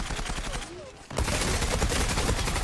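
TAR-21 assault rifle firing in the online shooter Zula: a dense, loud stream of rapid automatic shots that begins abruptly partway through and continues steadily to the end, with quieter game sounds before it.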